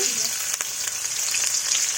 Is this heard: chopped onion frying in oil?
yes